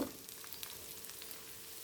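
Onions frying in a tempering of curry leaves in wood-pressed coconut oil give a faint, steady sizzle, with a small knock at the very start.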